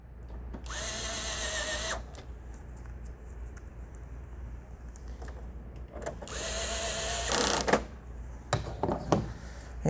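A power screwdriver backs two screws out of the rear of an HP M602/M603 laser printer in two separate bursts of loud whirring, each a little over a second long, with quieter handling clicks and rustling between and after them.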